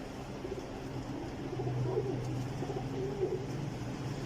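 Blue-eyed flying pigeons cooing softly nearby, a low continuous murmur of coos over a quiet background.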